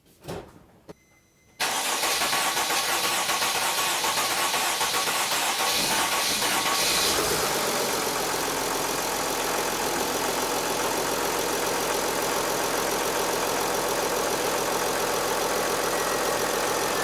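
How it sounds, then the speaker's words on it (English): A Mercedes Sprinter van engine after an oil pan and oil cooler repair, cranking briefly after a quiet moment, then catching and settling into a loud, steady idle with a hissy rumble that runs close and continuous to the end. "Let's start the engine now."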